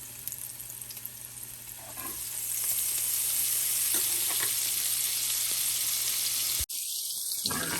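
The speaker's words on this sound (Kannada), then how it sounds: "ಅದಕ್ಕೆ ಕಟ್ ಮಾಡಿರೋ ಎಂಡ್ಸ್ ಇತ್ತಲ್ಲ ತುದಿ, ಆಸ್ಪರಾಗಸ್ಸು, ಆಮೇಲೆ 1-2 ಮಶ್ರೂಮ್ನ ಫ್ರೈ ಮಾಡ್ಕೊತಾ ಇದ್ದೀನಿ" Butter and oil frying asparagus ends and a couple of mushrooms in a small pan, a steady close sizzle that swells midway, with a brief clatter and a water-tap rush near the end.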